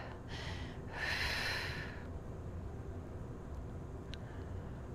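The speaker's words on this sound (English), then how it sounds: "I'm still breathing in through the nose and out through the mouth." A Pilates participant in a group exercise class breathes with one audible exhale, then quieter breaths follow against a steady room background.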